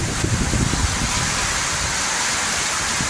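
Heavy rain pours in a dense, loud, continuous hiss with low spattering, likely from a storm in the Philippines, steady and close without any voices.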